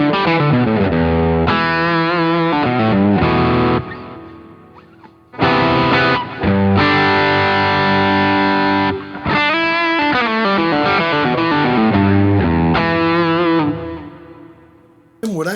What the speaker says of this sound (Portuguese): Esse é um som de Princeton